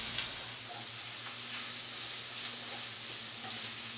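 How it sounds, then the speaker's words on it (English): Pre-cooked sausage with olives, garlic and jalapeno sizzling in a pan, a steady close frying hiss with faint crackles and a low background hum throughout. "garlic and jalapeno are nice and sizzling in the pan"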